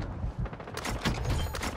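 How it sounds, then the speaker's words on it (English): Rifle fire rings out in a Warzone Resurgence match, with a quick cluster of sharp, echoing gunshots over a noisy battlefield background. No voices are heard. "I'm getting sniped, watch out."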